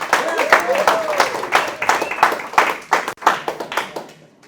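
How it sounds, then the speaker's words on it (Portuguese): An audience in a Sozo class claps for a guest invited up front, a close, brisk run of sharp handclaps with rhythmic bursts that taper off near the end, while voices talk and call out over them. "salve de palmas pro Nedson."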